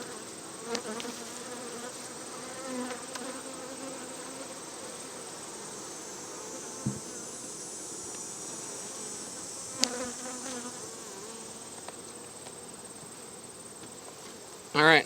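Honeybees hum steadily around a hive in a late-summer apiary. The buzzing is continuous and moderately close, with a few faint bumps and no clear talk.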